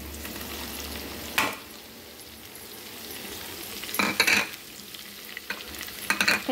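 Onions frying in a pan for an amaranth leaf and moong dal fry, with a steady soft sizzle throughout and several louder bursts of stirring and scraping alone, no talking.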